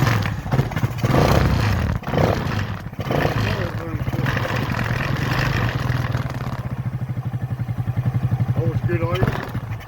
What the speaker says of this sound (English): It's a cold bike. It's cold, and I ain't got the choke on, but you can see how easy it starts right up.